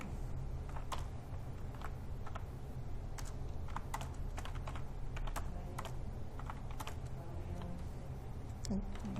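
Rapid typing on a computer keyboard during data entry work, a steady run of close, crisp key clicks at an even pace over a low constant background hum, with no talking.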